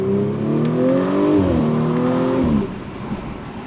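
A 2020s-era Audi S4 B9.5 engine revs with a rising then falling tone, close and moderately loud, before the note drops off into a faint rumbling idle with slight crackles.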